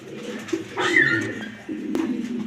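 Grizzle racer pigeons coo close by, with low, throaty murmurs rising into a brief, sharper call midway and then settling back into soft, rolling cooing.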